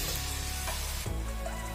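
Eggs cooking in oil with green chilli, onion, carrot, ginger, garlic and turmeric, a continuous close sizzle with a soft stirring scrape partway through.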